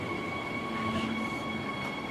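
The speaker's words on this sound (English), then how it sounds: "Heaps of trains coming through." A train rolls steadily through Yurong-Pili station, a continuous close rumble with a faint high whine from the wheels and rails, and no voices.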